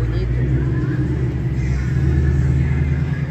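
A car engine from a replayed video rumbles low and steady throughout, a bit muffled, with no talking over it.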